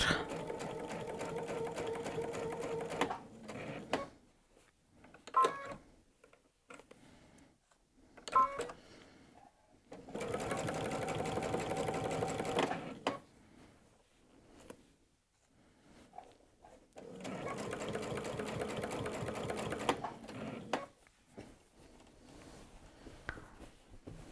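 A sewing machine stitches a jacket collar inside the bias binding: three long, steady, close runs of rapid stitching separated by pauses with lighter handling noises and brief quiet speech.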